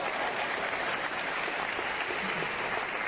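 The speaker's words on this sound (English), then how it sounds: "So let's give Scrooge a great round of applause." An audience applauds Scrooge at a Christmas light show event in Philadelphia, giving dense continuous clapping throughout with no one speaking.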